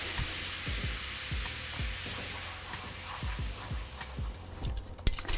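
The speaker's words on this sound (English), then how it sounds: "that's a nice sizzle there" Steady sizzling of butter and pasta water in a hot pan, with intermittent scraping and stirring taps, close and moderately loud.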